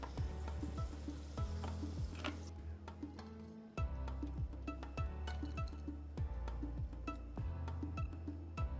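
Food sizzles in a hot pan while making Sindhi kadhi, a continuous crackling fry with frequent sharp pops and ticks, a brief louder burst early on, and stirring clinks throughout, heard close and alone.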